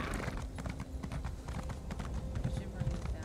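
Horse hooves clip-clopping in the video game Elder Scrolls Online, a quick, steady trot of hoofbeats at moderate distance, faint under people talking.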